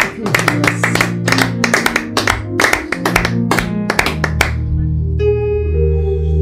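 A church congregation claps in a quick, steady rhythm in praise of God over sustained keyboard chords, and the clapping stops partway through, leaving only the music.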